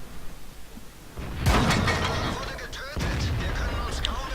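Cannon fire from a German E-50M tank in the game World of Tanks: a sharp, heavy boom followed by a second impact blast, loud and close, with game noise and a voice talking underneath.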